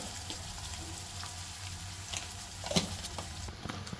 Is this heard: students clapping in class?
no